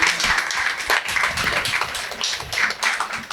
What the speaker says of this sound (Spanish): Un aplauso para nuestro querido Tony.